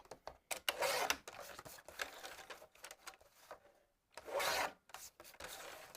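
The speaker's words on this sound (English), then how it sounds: "I'm going to cut my silver mirror card down to 7 3/4 inches square" Silver mirror card being cut down to size for a card project, heard as close scraping, rasping strokes in uneven bursts with a brief pause between passes.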